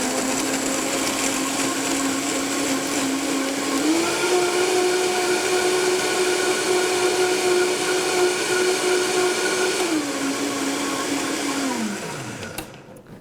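A blender whirs steadily as it purées a cashew-based salad dressing, its motor pitch rising as the load loosens before spinning down to a stop near the end.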